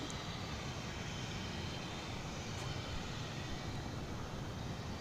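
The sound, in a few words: Airbus A321 airliner taking off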